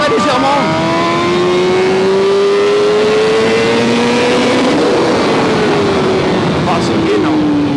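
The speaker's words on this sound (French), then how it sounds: "quand on accélère, la moto se lève très légèrement." A 2020 Honda CBR1000RR-R Fireblade SP accelerates hard, its engine note rising steadily in pitch through the gears with loud, continuous wind rush. A rider talks over it.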